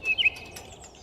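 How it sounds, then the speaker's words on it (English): A bright chirping call from a video game character, two or three quick high tweets at the start that fade into a faint tail, short and clear with no voices. "Chirping will bring crabs towards you."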